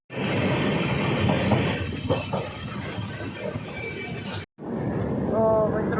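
Busy platform ambience at Palanpur railway station with a steady rumble of rolling train cars and a crowd murmuring, broken by a brief pause near the end.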